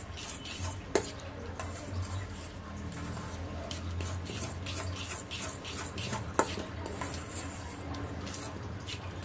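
Brown bread ground to a powder is mixed into a batter in a bowl for bread pancakes, giving soft, steady scraping and stirring with a couple of sharp clinks against the bowl, fairly quiet and with no talking.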